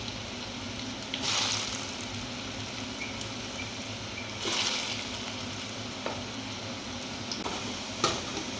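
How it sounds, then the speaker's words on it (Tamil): Potato fries frying in peanut oil, a steady, close, full sizzle and bubbling with occasional brief stirring scrapes, no talking. "இப்போ நம்ம இந்த உருளைக்கிழங்கு ஒன்றுனா பொரித்து எடுக்க போகிறோம்."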